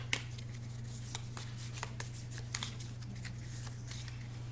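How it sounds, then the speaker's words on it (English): A deck of cards is shuffled during a board game, with soft riffling and sharp snaps of cards repeating at irregular intervals over a steady low electrical hum. "And we got to shuffle up for Mulder here."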